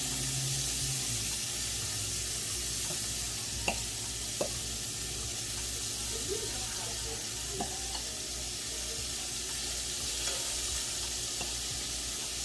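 Shrimp seasoned with salt and pepper sizzle steadily in a frying pan, a soft continuous hiss with a few small clicks and taps of a utensil, close and fairly quiet.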